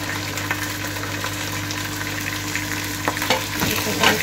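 Peas and carrots fry over onions for vegetable fried rice, a dense, loud crackling sizzle with a low steady hum beneath and a few stirring scrapes toward the end, close up and without talking.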